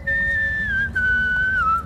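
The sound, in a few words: recorded performance of people whistling an anti-war song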